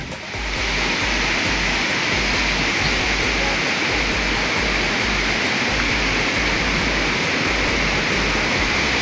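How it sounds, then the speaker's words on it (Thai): A waterfall in Chanthaburi, Thailand, pours from a height. The close, loud, constant roar of falling water fills the scene with an unbroken hiss and rumble that holds steady throughout. "เห็นน้ำตกกันแล้วครับไปครับไปดูใกล้ๆครับแล้วสายน้ำก็จะพิ้วลงมาจากข้างบนนะครับ"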